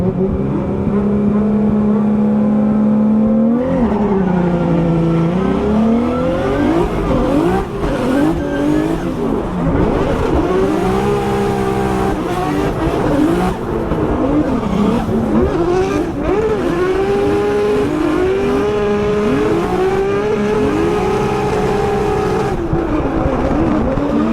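A BMW E36 drifts on a track, its engine revving hard and continuously with rising and falling pitch through the arcs, tires squealing and skidding throughout at close range.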